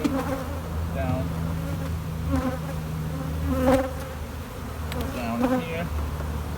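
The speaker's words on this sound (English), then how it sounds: "Bees are going up here, but they're drawing comb." Honeybees drawing comb in a beehive super hum in a dense, steady buzz up close. Individual bees whine louder as they pass near, with no voices over them.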